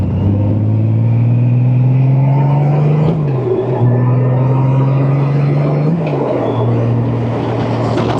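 A Honda Goldwing Tour GL1800 motorcycle engine is heard on a test ride, a loud, steady droning hum that rises in pitch and dips with gear changes, close and continuous under wind noise.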